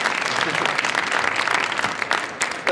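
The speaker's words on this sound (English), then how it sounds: "Yes, you can applaud them." An audience in a science demonstration hall claps for volunteers coming up on stage, with dense, steady applause throughout that tapers slightly near the end.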